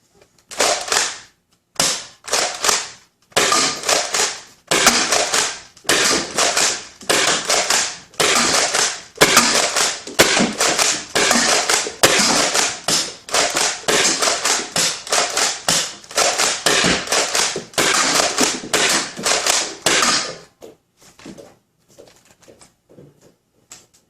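A Nerf Hyper Siege-50 toy blaster fires a long, rapid run of sharp pops at a target, one shot after another with brief pauses, loud and close, then stops abruptly near the end.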